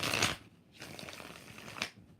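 A deck of tarot cards is shuffled by hand in two quick riffling bursts with a softer sliding rustle between them, close and crisp.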